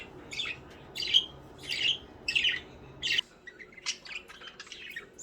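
Budgerigars squawk and chirp in a string of about six bright, scratchy bursts close by, followed by softer, quicker twitters as a background hum drops away.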